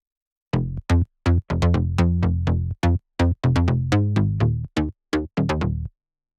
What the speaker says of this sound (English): If I remove every single plugin that's on that bass line, it sounds like this.